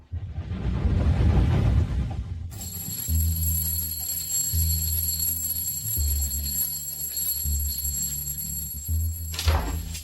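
An alarm clock rings loudly and continuously for several seconds, its bright repeating tone steady over a low background, following a short burst of rustling noise.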